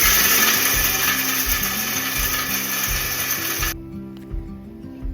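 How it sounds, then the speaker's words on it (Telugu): Mixer grinder blending roasted peanuts for chutney, a steady loud whirring motor with rhythmic pulsing churn, cutting off abruptly near the end to a quieter rattle. "పీనట్స్ వేయించాను కదా, సో చట్నీ కోసం తొందరగా మిక్సీ అయితే పట్టేస్తున్నాను"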